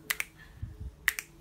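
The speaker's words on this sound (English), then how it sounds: "Come on, everybody, and snap your fingers now." Finger snaps at a singalong, two quick crisp pairs of sharp clicks separated by a short pause, fairly faint with soft low thumps between them.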